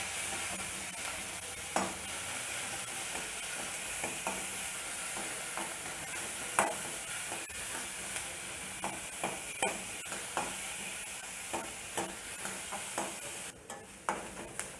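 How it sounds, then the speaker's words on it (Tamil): Onions sautéing in a pan with salt before jackfruit is added, a steady low sizzle and hiss with frequent stirring clicks and scrapes of a utensil against the pan, close and continuous, no voices. "வெங்காயம் இப்போ வதங்கிருச்சு"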